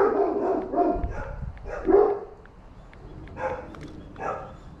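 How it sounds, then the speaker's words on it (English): A dog barks in a series of short, fairly close barks, with a brief whimpering yip between them and no talk over the sound. "Oh, quit barking."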